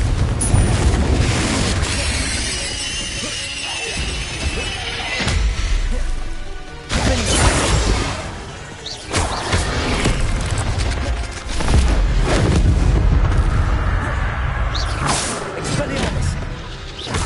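Repeated booming blasts and crashing impacts from the Confringo explosion spell in the video game Hogwarts Legacy, loud and dense over a busy game soundtrack, with several bursts across the stretch.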